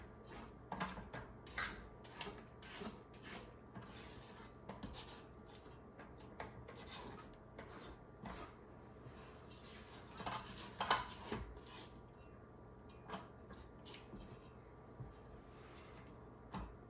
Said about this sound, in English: Scrape down the sides and the bottom.